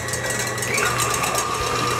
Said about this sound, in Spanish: Vamos a poner a batir las claras.